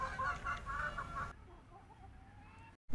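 A Desi Golden Misri hen clucking in a rhythmic run of short calls, fairly close, which stops abruptly partway, leaving quieter distant chirps before a brief cutoff.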